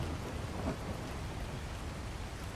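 Rain pours steadily with a deep rumble of thunder in a video game, a dense wash of noise with a low roll that swells briefly, carrying on without talk.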